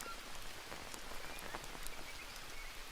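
Steady rain pattering in the jungle survival game Green Hell, a faint continuous patter with scattered drops and no talking.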